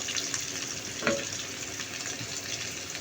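Spices, including ginger, garlic and onion pastes with dried chili powder and turmeric, fry with softened onions in a pan for a bottle gourd and prawn curry, making a steady moderate sizzle with a brief clatter near the middle.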